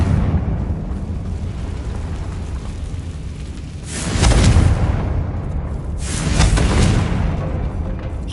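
Two loud blasting bursts from the Confringo fire spell in Hogwarts Legacy, each roughly a second long and spaced a couple of seconds apart, ringing out over a steady rumbling game ambience.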